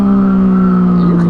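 Yamaha FZ-09 motorcycle engine idling and revving lightly, a loud, steady close-up drone with strong harmonic hum that rises slightly in pitch near the end.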